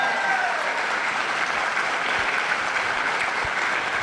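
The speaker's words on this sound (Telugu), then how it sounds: "మనందరం కూడా ఒకసారి గ్రాండ్గా క్లాప్స్ హృదయపూర్వకంగా" A large audience at a boot camp gathering applauds, a loud, dense and steady wall of clapping that fills the room for several seconds without letting up.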